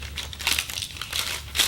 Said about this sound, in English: I use the parchment paper